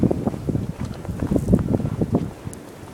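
Strong wind roars and gusts outdoors during a Boston snowstorm at night outside an apartment, a continuous loud rushing close to the microphone.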